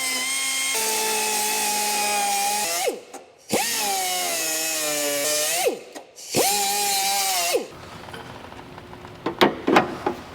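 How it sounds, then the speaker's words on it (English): An air-driven cutoff wheel grinds into the edge of an old car body panel in three long, high-pitched whining runs that dip in pitch under load, each stopping briefly, then a few metallic clanks follow. "I'm going to use my cutoff wheel. I'm going to cut this edge right here"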